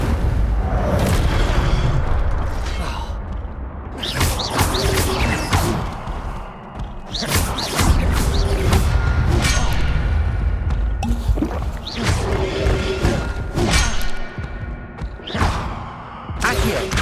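Repeated booming fire blasts of the Incendio spell in a Hogwarts Legacy battle on hard difficulty, loud and continuous with crashing impacts layered over rumbling combat noise.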